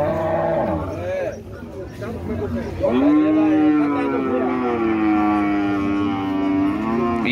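Cattle moo loudly at a livestock fair in Campo Grande, Alagoas, long drawn-out bellows close by with a brief dip between calls, over a murmur of crowd noise.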